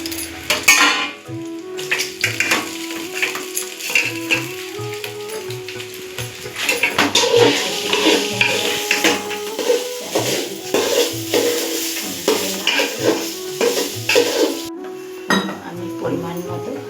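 Spatula scrapes and clinks against a pot as ingredients are sautéed and stirred for a home-style Bengali dish, with a low sizzle and a steady tonal background running throughout.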